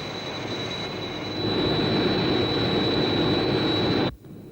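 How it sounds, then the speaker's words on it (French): Jet aircraft flying close alongside in an animated puppet adventure series, a steady loud roar with a high whine that swells louder partway through, then cuts off abruptly near the end. "Un autre avion vient tout près du nôtre."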